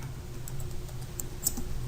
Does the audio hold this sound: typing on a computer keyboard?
yes